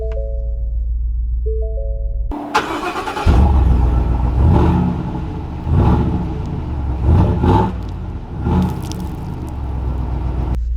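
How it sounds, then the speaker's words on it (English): A 2021 Ford F-250 truck with a 6.2L V8 starts rolling after a few electronic chimes, its engine rumbling and revving up in repeated surges as it pulls away, heard from inside the cab; no talk. "let's take this F-250 out and see how it drives"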